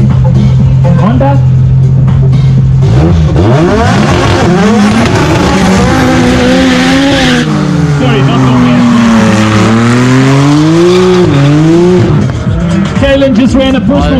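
Honda drag car with a naturally aspirated push-rod A14 motor runs the quarter mile at a South African drag strip, its engine loud and close, revving up through rising gear changes with tire noise, sustained throughout.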